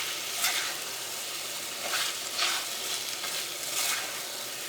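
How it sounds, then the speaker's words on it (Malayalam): A chicken tomato masala curry is stirred in a pan, its thick gravy giving a soft steady sizzle with several louder scraping strokes of the spoon at a slow rhythm, close up and with no talking. "ഈ കറി നമുക്ക് നന്നായിട്ടൊന്ന് ഇളക്കാം."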